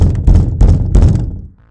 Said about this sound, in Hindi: दरवाजा खटखटाया।